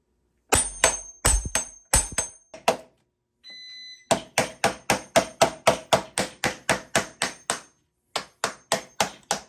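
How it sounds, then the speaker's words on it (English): Hard metallic hammer strikes on a corroded oil pump part of a 1972 Yamaha DT2 motorcycle, struck through a piece of aluminum, ring out in quick, steady succession, a short burst followed by a long run of evenly spaced clanging blows, loud and close. "So I've been beating on it with this piece of aluminum here and a hammer"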